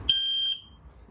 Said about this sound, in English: CO2 alarm.